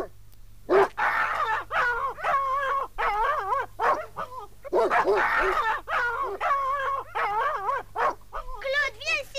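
Fierce dogs barking and whimpering in a wintry outdoor scene, repeated loud close barks and yelps in bursts with whining in between, mixed with raised voices shouting.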